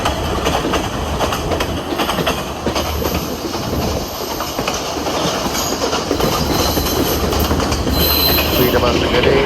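Podi Menike train arriving at Idalgashinna station in the Sri Lankan hills, with a steady loud rumble of rolling wagons, clattering wheels and squealing rails sustained throughout, distant voices faintly beneath.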